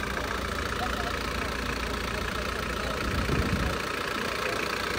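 A 1996 Nissan Mistral with a 2.7 diesel engine and automatic gearbox idles close by, a steady low rumbling drone with a faint rhythmic knock and a high whine above, unchanging throughout.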